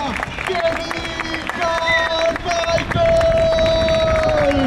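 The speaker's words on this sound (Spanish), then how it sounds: "¡Fuerte el aplauso de la Galería Ambiente!" A grandstand crowd claps and cheers steadily for Kevin Carmichael's Triumph motorcycle freestyle show, a broad continuous wash of applause mixed with a loud announcer's amplified voice.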